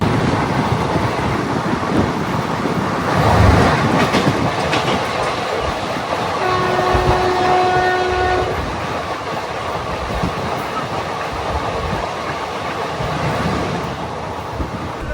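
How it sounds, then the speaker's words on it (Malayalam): Devagiri Express passenger train from Hyderabad to Mumbai on a single-line section, heard as a steady rolling rumble with clickety-clack of wheels, and a long two-tone horn blast in the middle, no voices. "ഇതാണ് ദേവഗിരി എക്സ്പ്രസ്, മുംബൈക്ക് പോകുന്ന വണ്ടിയാണ്, ഹൈദരാബാദിൽ നിന്ന് മുംബൈക്ക് പോകുന്നത്."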